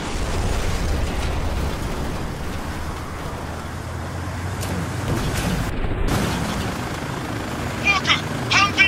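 Helicopter in the Spec Ops: The Line video game, a steady loud rotor roar filling the scene alongside bursts of explosions and gunfire, with brief clattering impacts near the end.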